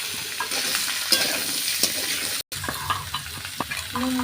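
Stalks and potatoes are tipped into a hot frying pan with five-spice, ginger and garlic, producing a close sizzle with scraping and clattering bursts, a brief silent break, then more stirring hiss.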